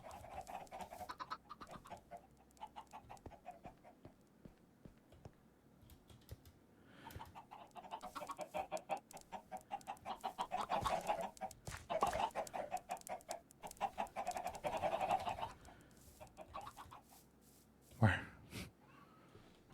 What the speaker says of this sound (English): Why are the chickens so loud?